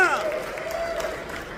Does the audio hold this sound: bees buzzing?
no